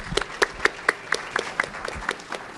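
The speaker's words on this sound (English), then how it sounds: "Round of applause." Clapping at a school promise zone annual banquet as a speaker is introduced, a handful of distinct, fairly close hand claps in a loose rhythm over a thin background of scattered applause.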